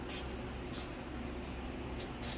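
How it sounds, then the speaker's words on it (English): Short, sharp hissing bursts from an aerosol spray paint can sprayed onto a poster, four quick sprays at close range over a steady background hush. "just spray onto this poster and it'll redirect the paint downwards"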